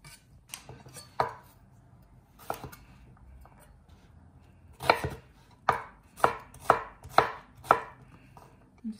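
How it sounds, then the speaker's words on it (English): Knife slicing peeled ginger into rough pieces on a board: a few sparse chops, then a quicker run of about six crisp, evenly spaced cuts, close and clear with no talking. "once peeled, slice the ginger again, just rough pieces"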